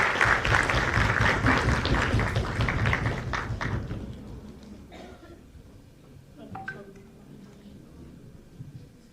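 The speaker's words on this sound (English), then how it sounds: "Please join me with a big round of applause to welcome Sir" Applause welcomes a speaker at an international conference on lifelong learning, loud and sustained for several seconds before fading into scattered claps and a few knocks and clinks; voices are heard nearby.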